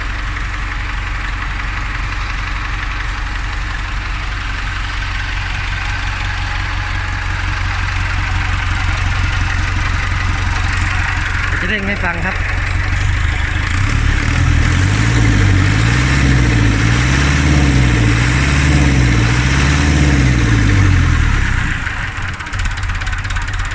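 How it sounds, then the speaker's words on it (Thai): A car engine idles steadily and smoothly, close up, with a low rhythmic rumble that deepens and pulses slightly before settling. "ให้ฟังเสียงเครื่องครับผม"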